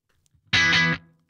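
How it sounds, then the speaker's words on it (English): Electric guitar played through a modelled amp with a virtual room-mic setting in Positive Grid BIAS Desktop, a single distorted chord struck and held about half a second, then cut off with a short room tail. "It's more putting the amp as if it's in a room with a mic on it."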